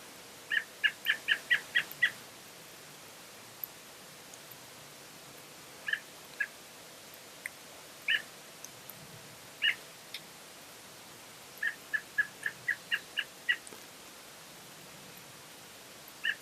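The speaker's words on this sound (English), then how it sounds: "Lots of other birds here." Birds calling outdoors on a rainy evening hike, clusters of short repeated chirps in quick bursts with gaps between them, moderately distant over a soft hiss of rain.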